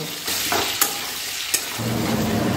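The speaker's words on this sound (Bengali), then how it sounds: "এবার মিডিয়াম ফ্লেমে রেখে এই আলুগুলোকে ভালো করে ভেজে নেব" Potatoes for aloo dum fry on a medium flame, a close, continuous sizzle with a couple of sharp stirring knocks in the pan and no talking.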